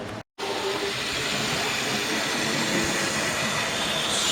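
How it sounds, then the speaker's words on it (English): A model railway locomotive hauls a heavy train up a gradient, giving a steady, close rushing rumble of running wheels and motor after a brief silent gap at the start. "It's quite a heavy train for her on these gradients, so we'll see how she gets on."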